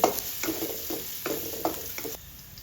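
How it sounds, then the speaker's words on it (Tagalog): Ginger and garlic being stirred in hot oil in a pan for a Filipino chicken and bamboo shoot sauté, giving soft repeated scrapes over a steady light sizzle, close and fairly quiet, with no talking. "Next natin yung ating garlic. Muli natin itong haluin."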